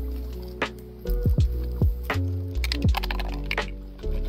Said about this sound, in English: We're gonna chuck it in the water